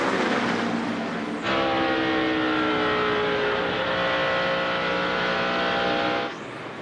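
NASCAR Winston Cup stock cars racing at Homestead Miami Speedway in 2003, a loud, sustained engine roar as a pack of cars thunders past close by, with a rising pitch that fades at the end.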